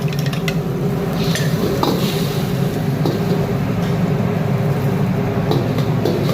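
Steady sizzling in a hot pan with garlic, egg and rice for nasi goreng, metal scraping and clinking as food is stirred and tossed, continuous and fairly loud throughout.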